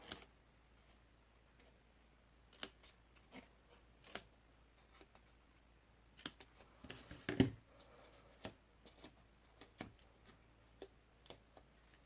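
Scissors trimming paper, with a handful of soft, scattered snips and small rustles at close range against a quiet background.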